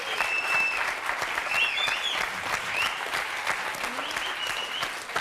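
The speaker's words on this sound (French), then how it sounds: "Je crois qu'on peut applaudir très fort Jocelyne" A studio audience on a French television talk show applauds Jocelyne loudly, sustained dense clapping throughout with a few voices and whoops mixed in over the crowd.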